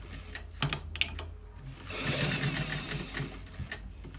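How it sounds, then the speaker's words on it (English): A sewing machine runs in short bursts and then a longer steady stretch while stitching the top part of a shawl collar at a quarter inch, its rapid mechanical chatter close and fairly quiet. "We are stitching it on the top part."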